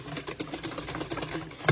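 A wire whisk beating eggs in a bowl for a pumpkin roll's sponge cake batter, giving a fast, steady run of close, soft clicking and tapping strokes with no talk.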